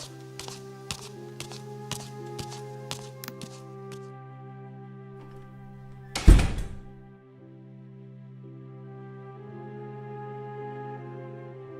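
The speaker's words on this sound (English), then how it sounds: "Leaving, she did slam the door." A door slams shut with one sharp, heavy thud that rises out of steady background music and quickly fades back into it.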